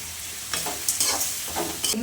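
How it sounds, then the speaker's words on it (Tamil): Chopped onions frying and being stirred in a pan for a home-cooked chicken biryani, a steady close sizzle punctuated by several louder scraping stir bursts, with no talking. "கட் பண்ணி வச்ச வெங்காயத்தை சேர்த்துக்கலாம்"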